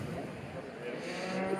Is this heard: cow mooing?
yes